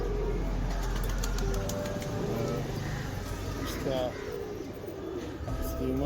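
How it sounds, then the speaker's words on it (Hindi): A 24-year-old Fulsira high-flying pigeon, blind from cataracts in both eyes, gives soft low coos close by amid steady outdoor background noise and occasional rustling. "यही एक कबूतर बचा है यार"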